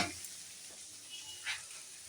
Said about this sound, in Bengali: এটা একটু সরিয়ে মাঝখানে বাদামটা একটু ভেজে নেব